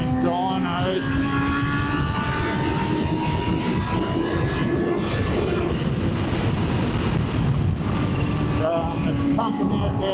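Kawasaki Ninja H2 supercharged motorcycle on the move, a steady loud engine roar with rising and falling whine tones and constant wind rush throughout.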